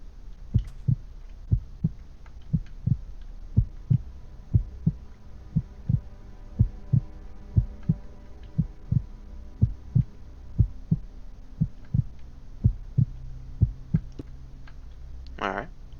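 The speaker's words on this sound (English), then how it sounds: "Heartbeat" A steady, looping heartbeat from the Minecraft Horror Elements mod pulses evenly for the whole stretch, each deep thump clear and close, with a low hum underneath and no talk.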